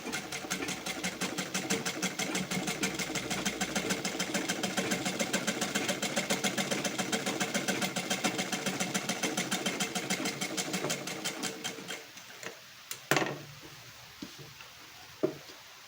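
An electric sewing machine stitches fabric for a blouse front panel, a close, steady, fast mechanical chatter that runs for about twelve seconds, then stops, leaving a few faint knocks and handling noises.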